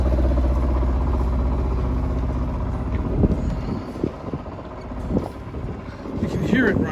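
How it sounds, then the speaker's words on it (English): A sailboat's low engine idles steadily close by, a constant rumble with someone talking over it at times. "The engine is running."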